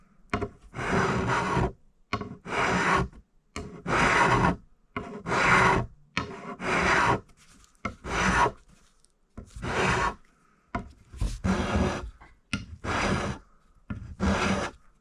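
A rasp files the wooden neck of a Fender Stratocaster being scalloped, making a run of rough, rhythmic scraping strokes, close and clear, each about a second long and separated by short pauses.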